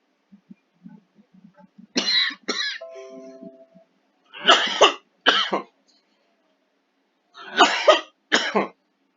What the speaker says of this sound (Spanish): tuve un acceso de tos